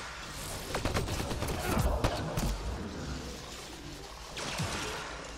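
Sci-fi gunfire in a shooter game, several sharp bursts clustered early followed by a quieter stretch and another short volley near the end, moderately loud over a murky combat background.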